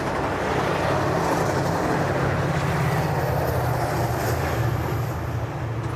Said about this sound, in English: There's the Caltrain train.